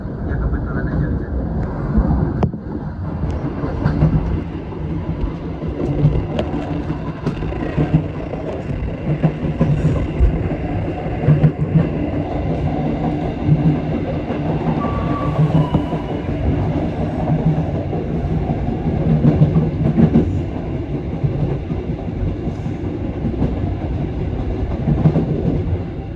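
Motis Selatan passenger train running and pulling into Cicalengka station, a steady low rumble with rhythmic clickety-clack of wheels over rail joints, heard from onboard, continuous and moderately loud for the whole stretch.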